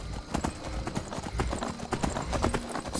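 Horse hooves pound in quick, rhythmic gallop across the ground in Skyrim, a continuous clip-clop that is close and fairly loud, with a faint voice now and then underneath.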